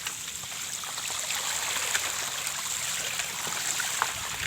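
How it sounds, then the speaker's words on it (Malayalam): Water rushing steadily with a continuous broadband hiss and slight gurgling, no pauses and no voices. "അവിടുന്ന് വെള്ളം കയറി വരുന്നുണ്ട്."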